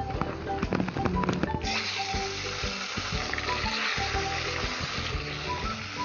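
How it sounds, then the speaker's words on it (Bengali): Small fish (chara pona) sizzle and crackle loudly as they are added one by one to well-heated oil, with a steady frying hiss and a few clinks and taps of a utensil. "তেলটা ভালোভাবে গরম হয়ে গেছে, এরপর আমি মাছগুলো তেলের মধ্যে দিয়ে দিচ্ছি এক একটা করে।"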